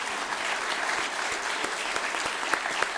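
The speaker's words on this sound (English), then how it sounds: "Can we give them a round of applause" Audience applause at an awards ceremony, a steady dense clapping from a large crowd that stays loud and even throughout with a few sharper claps standing out near the end.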